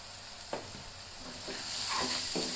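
Spices being stirred into gathiya sabzi in a pan, a soft scrape and shuffle of the spoon over a steady oil sizzle, with a few faint clinks as the mix is turned.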